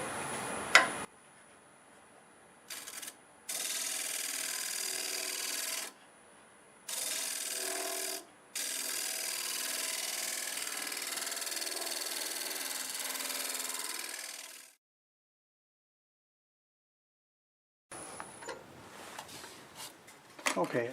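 A negative rake scraper works a square maple bowl spinning on a wood lathe, giving a steady hissing scrape in several separate passes that stop abruptly, followed by silence and then faint handling noise.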